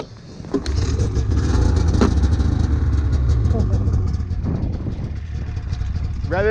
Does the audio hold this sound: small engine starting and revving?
yes